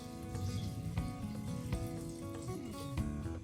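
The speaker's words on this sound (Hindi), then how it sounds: "अब इसमें पानी डाल लेंगे।" Water poured into a pressure cooker over tomatoes and other vegetables for tomato soup, a continuous close gurgling pour with bubbling, splashy texture and no voices.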